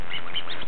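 A child's toy duck gives a single short, squeaky quack, close and clear with no talking over it.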